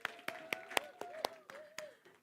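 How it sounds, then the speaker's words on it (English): A handful of people clapping for the producers at a child-rights session: about eight distinct, fairly loud claps in an uneven rhythm, over a low sustained tone and faint room sound. "Can we have a clap for them because they had really done a good job?"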